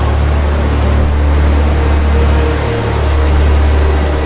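A steady low engine drone with a broad wash of noise, like a motorboat running nearby, from a boat in the video game Uncharted: Drake's Fortune, constant throughout with no voices.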